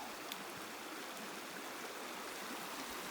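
River water flowing steadily at the bottom of a big hill on a backpacking trip, a constant broadband rush that stays close and even throughout, with no voices.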